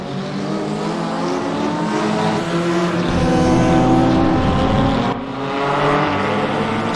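Race car engines roar steadily in a sim racing game, several cars droning together with a surge in revs midway, then a brief dip and recovery, loud and continuous without voices.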